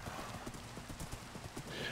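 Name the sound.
horse hooves passing by in the video game Minecraft (TolkienCraft)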